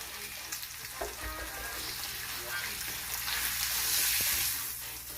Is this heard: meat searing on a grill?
yes